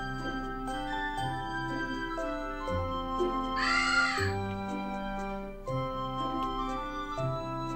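A crow-like bird caws once in the Home Alone video game, a bright harmonic call standing out for about half a second over steady game music.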